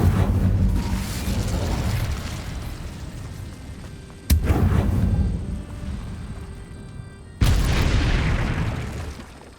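Incendio fire spell cast in a game lands as heavy whooshing booms, with two sharp bursts several seconds apart, each followed by a long fading roar.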